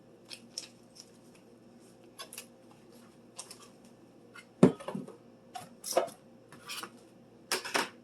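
Ingredients for a taco spaghetti casserole with cream soups, beef, tomatoes, vegetables and seasoning being stirred in a casserole dish, giving scattered clinks and scrapes of a utensil against the dish, close and fairly quiet, with short louder bursts.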